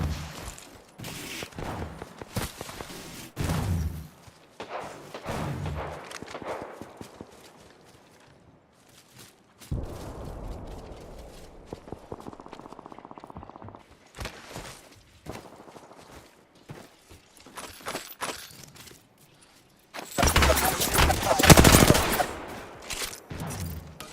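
Gunfire in an online shooter game comes in repeated rapid bursts and scattered shots, some faint and some close. A dense, loud volley erupts near the end.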